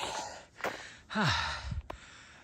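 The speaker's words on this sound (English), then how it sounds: "I'm breathing hard, my heart rate feels like my heart's gonna explode." Hard, heavy breaths from a trail runner climbing in studded shoes, a few loud gasping inhales and exhales close to the microphone, ending in a sharp exhale.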